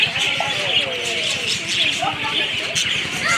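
Colorful birds in a zoo aviary in Monroe, Louisiana, chirping and cooing at close range in short repeated calls, with a person speaking over them.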